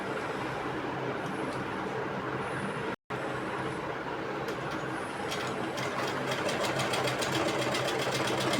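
A sewing machine runs steadily, stitching a pocket onto a pair of trousers. Its fast, even mechanical whir carries on close and loud, with one brief stop partway through.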